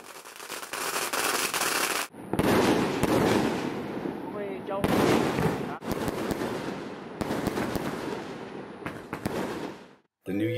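New Year's Eve fireworks and firecrackers burst from a rooftop during Spring Festival in Yunnan, with dense crackling volleys and booming explosions rolling continuously, loud and close, with brief gaps between barrages.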